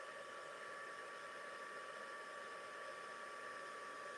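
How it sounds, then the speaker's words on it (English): A crafting heat tool blows continuously, a steady even whir with a faint high tone, quiet and unchanging throughout, no voices. "Okay, so I've got my heat tool. I'm just going to get this going."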